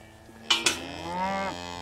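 Cattle on a farm being herded with two collies, one animal lowing in a long, drawn-out moo that rises after two sharp knocks, close and fairly loud.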